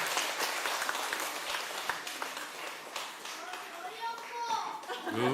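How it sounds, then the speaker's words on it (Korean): A church congregation claps for the children's group on Children's Sunday, with scattered applause mixed with children's voices and chatter, then thinning out as talking takes over. "우리 다시 한번 격려의 박수 하겠습니다"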